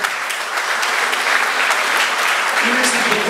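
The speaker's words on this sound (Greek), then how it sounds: "Ένα χειροκρότημα." Warm, dense applause from an audience at a Greek book presentation fills the room steadily, loud and close, with faint voices mixed beneath the clapping.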